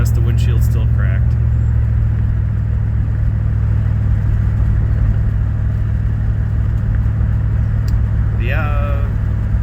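A car with a modified TH200 automatic transmission drives steadily, its engine droning low and constant from inside the cabin, with a person talking intermittently over it.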